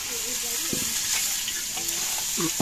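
Fish frying in hot oil, a steady hissing sizzle close by with light clinks and stirring under intermittent voices in the background.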